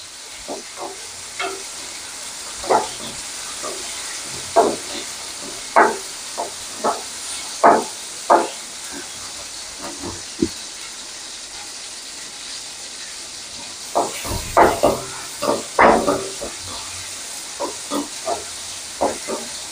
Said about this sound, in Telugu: ఎర్రగడ్డలు వేగాయి. తర్వాత టమోటాలు వేసేసి వేయించుకుంటున్నాం.